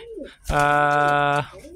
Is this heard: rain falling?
no